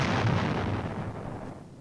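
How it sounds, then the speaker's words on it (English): Heavy artillery fire booms in a deep rumbling burst that decays over a couple of seconds, loud and somewhat distant, with no voices. "His strength has been sapped by steady aerial strikes. And heavy artillery barrages."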